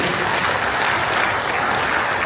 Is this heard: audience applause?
yes